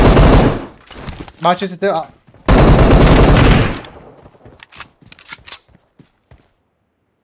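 Bursts of PUBG Mobile gunfire in a squad match, two dense loud volleys in the first few seconds followed by scattered sharp single shots fading out, with brief speech between them.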